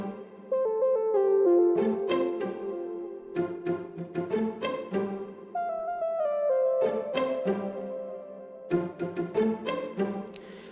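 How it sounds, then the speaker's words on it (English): A bright synth melody, the Chariot On patch from the Flex plugin, plays over a guitar-led Afrobeats groove, its stacked notes phrasing in short bursts with drum hits punctuating the chorus section. "the sound I used for this synth that came in somewhere at the B part of the chorus is called Chariot On, also from Flex plugin"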